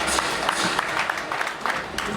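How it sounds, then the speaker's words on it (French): An audience at an African talent awards ceremony applauds, a steady, continuous patter of many hands clapping in a hall, moderately loud with scattered sharper claps standing out. "Merci d'applaudir pour vous, s'il vous plaît"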